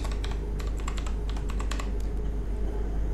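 A word typed on a computer keyboard, crisp rapid key clicks in an uneven run over a steady low hum, then the tapping thins out toward the end.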